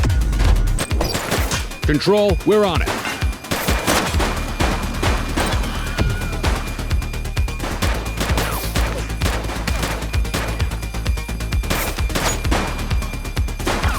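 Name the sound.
gunfire in The Precinct video game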